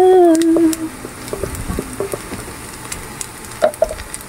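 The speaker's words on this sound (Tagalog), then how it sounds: "So igigisa lang po natin to hanggang sa mag-translucent" Onions sautéing in a pan until translucent, a low steady sizzle with faint scraping and stirring clatter, a brief tonal whine at the start and a couple of clinks near the end, no talk.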